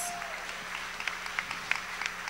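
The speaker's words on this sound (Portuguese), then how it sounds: "Queria que vocês recebessem com um salve de palmas." A church congregation claps to welcome a pastor, a soft, scattered patter of hands heard at a distance and fairly faint.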